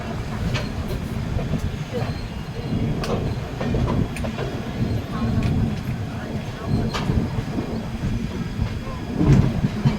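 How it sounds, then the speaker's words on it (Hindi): Doon Express passenger train pulling in at platform one at Haridwar in early morning, a continuous rumble with wheel clatter and metallic clanks, close and steady, with faint voices. "और ट्रेन हम लोगों की 1 नंबर प्लेटफॉर्म पर पहुँच रही है"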